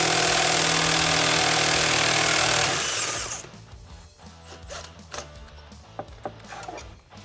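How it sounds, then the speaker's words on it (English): A 1/2-inch drive impact wrench hammering on the clutch of a Polaris RZR Trail S 1000, a loud continuous rattling buzz for about three seconds that cuts off, followed by quieter clanks and handling noises. "just hit it with that 1/2" drive impact, popped it right off"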